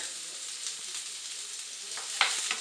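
Fennel sautéing in a hot pan gives a steady, close sizzle with crackling pops throughout, and a few brighter spits toward the end. No voices are heard.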